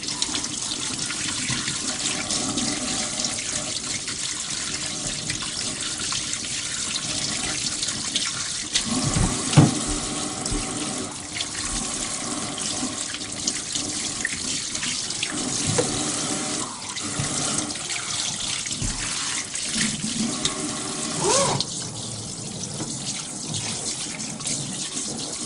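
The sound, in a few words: water running from a tap while cleaning fish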